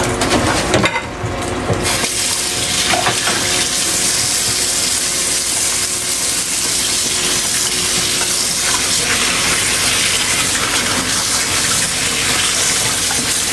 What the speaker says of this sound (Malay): Dah. Tinggal masuk air je.